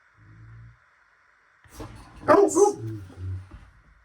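A dog barks indoors in a few loud, close woofs after a quiet stretch, with some faint softer sounds before and a drawn-out whine-like tail at the end.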